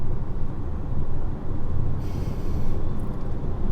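A 2023 DS3 Opera E-Tense electric car on the move, a steady low road and tyre rumble with wind noise, an even drone without engine note, slight swells and a brief higher hiss midway.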